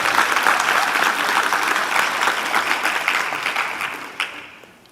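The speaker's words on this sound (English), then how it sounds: "That's a great time to give them a round of applause." Sustained applause from a graduation audience, a dense even clatter of many hands clapping throughout, thinning and fading out at the end.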